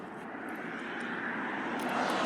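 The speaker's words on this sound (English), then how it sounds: "here I'm gonna fire it up so y'all can hear it" A low-mileage 2015 vehicle's engine roars steadily and grows slightly louder, a broad, even rumble heard close up with no voices.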